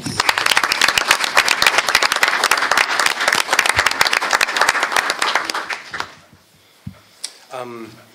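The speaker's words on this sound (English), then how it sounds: "So a round of applause for that." An audience applauds retirees at a school district meeting, sustained brisk clapping from many hands for about six seconds, then dying away into a quiet room where a voice briefly speaks.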